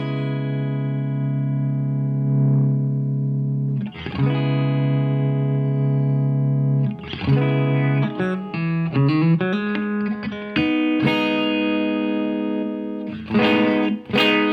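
Electric guitar through a sustain pedal into a Fender Tone Master amp, with long, smooth sustain: held notes ring out for seconds, then a run of picked notes, all thick and slightly driven, with no talking.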